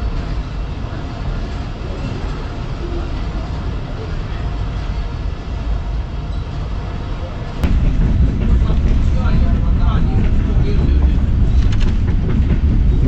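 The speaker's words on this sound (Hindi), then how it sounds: "रवानगी हो रही है शालीमार एक्सप्रेस की" The Shalimar Express rolls through winter fog with a steady loud rumble and rattle from inside the carriage. Partway through, the roar swells heavier and harsher as it picks up, carrying on without a break.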